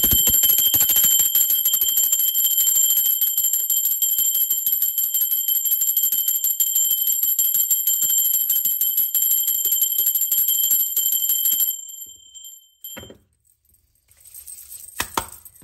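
A bell rings with a sustained, shimmering metallic tone that lingers for about twelve seconds before fading and cutting off, followed by a few quieter faint sounds.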